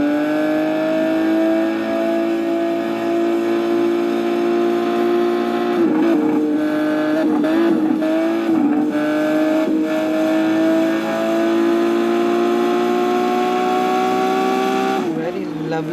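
Lamborghini Veneno hypersports car exhaust note, a loud sustained engine drone rising in pitch as it accelerates, with brief gear-shift dips and a final surge, continuous throughout.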